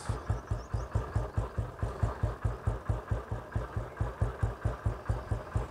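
A Royal Enfield Bullet Electra motorcycle with a cast-iron engine idles close by, beating out an even, rhythmic thump of about four pulses per second with no other sound over it.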